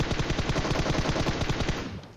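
Gunfire in the PUBG battle royale game: rapid automatic bursts crack out loud and close, one after another in a dense rhythm for about two seconds before trailing off.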